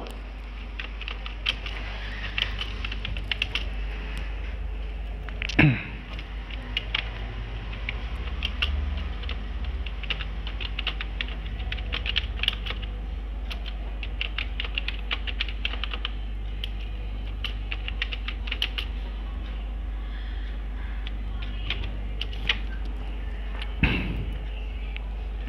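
Steady clatter of keys as an address is typed on a computer keyboard, close and continuous, with two louder knocks partway through and a constant low hum underneath.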